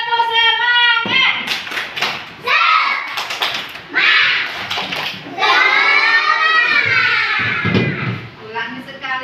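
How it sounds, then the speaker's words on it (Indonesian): Schoolchildren in a classroom perform a rhythmic spirit clap, bursts of patterned claps and thumps mixed with loud chanting voices, close and lively. "Oke, tepuk semangat."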